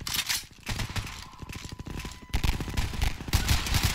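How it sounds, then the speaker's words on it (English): Rapid bursts of automatic gunfire from enemy shooters in Garry's Mod crackle loudly and close, short sharp volleys repeating in quick rhythm with a brief lull near the middle, no voices over them. "All right, they're shooting at us."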